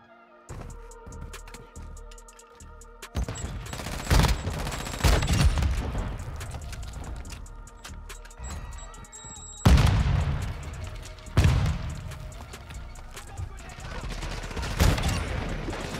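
Lockwood 300 rifle fire in the Modern Warfare 2 video game: loud, sharp shots crack out at irregular intervals, some in quick clusters, over a busy backdrop of distant gunfire and booming.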